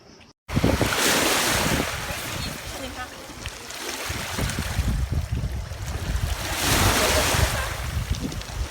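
Sea waves wash loudly into a rocky Mediterranean cove beach in Greece's Peloponnese, with continuous surging surf and heavy wind buffeting the microphone, swelling and easing over several seconds.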